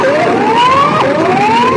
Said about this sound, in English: Tsunami sirens were heard in Ecuador